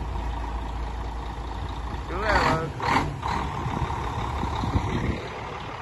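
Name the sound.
truck engine and air brakes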